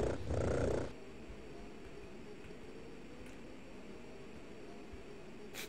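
A creature in the survival game Robinson's Requiem gives a short, loud purring burst that stops after about a second, leaving a faint hiss of background ambience.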